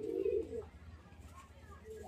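Golden pigeons in a loft at Sangrampur give one short, soft coo at the start, then the clip falls to quiet room noise with faint murmurs.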